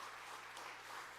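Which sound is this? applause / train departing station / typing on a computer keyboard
applause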